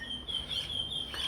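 A bird swooping overhead gives high, thin chirping calls, a few short squeaky notes over quiet outdoor background, fairly faint and with no voices.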